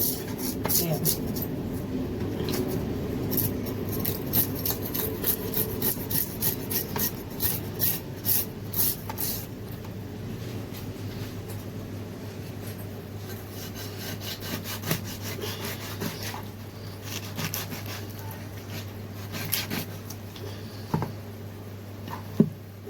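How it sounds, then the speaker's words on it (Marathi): A knife cuts a whole pomfret into pieces, with steady close rasping and scraping strokes, then sharper scattered clicks, under ongoing talk and a low steady hum. "चला हलवा आपण बघा कापून घेऊया"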